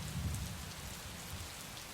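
Heavy downpour in Belagavi, a dense steady roar of rain drumming on surfaces, close and continuous with no pauses.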